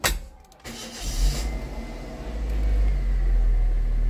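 A used car's engine cranks and starts during an inspection, with a short click and whir followed by a settling, steady low idle rumble that swells slightly as it runs.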